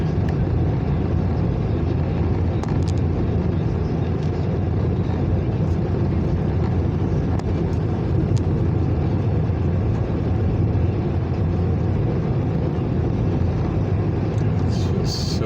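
Interior of a Saturn car on the move, with a steady, loud broadband drone of engine and road noise filling the whole stretch without a break.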